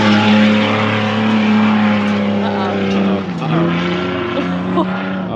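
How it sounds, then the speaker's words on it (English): A race car on a track, a yellow car that has just spun out, drones with a steady, loud engine tone that dips and then rises again as it revs, heard up close. "The yellow car that spun out sounds pretty bad."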